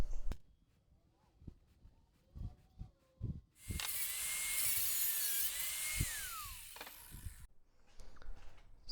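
Cutting a metal file down to six inches: a steady hiss of cutting lasts a few seconds, with scattered tool knocks and handling clatter before and after, close and fairly quiet.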